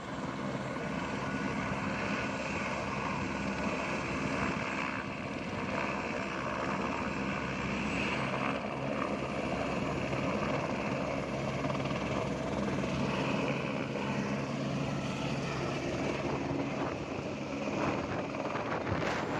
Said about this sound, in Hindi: यहाँ पर हेलीकॉप्टर लास्ट स्टॉप है, यहाँ पर आपको उतारेगा और ये 9 मिनट में आपको केदारनाथ पहुँचा देता है